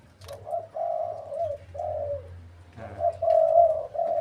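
A caged decoy dove coos in close, repeated phrases, each a smooth rolling note with short pauses, sounding loud and near over a faint, steady low hum.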